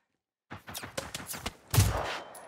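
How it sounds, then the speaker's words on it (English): Gunfire aimed at a robot's fuel cell in the video game Generation Zero: a quick burst of sharp shots in close succession, then a louder blast with a trailing crackle, up close and alone. "So if I can get one good shot off at his fuel cell"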